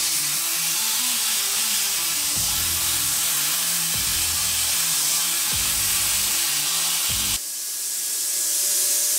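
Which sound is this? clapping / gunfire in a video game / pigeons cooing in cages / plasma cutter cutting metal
plasma cutter cutting metal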